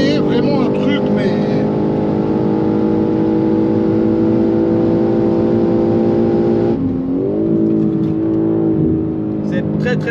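A 912-horsepower BMW M3 at a drag race holds a loud, sustained engine roar that steadily climbs in pitch, then dips and settles. People talk over the engine noise.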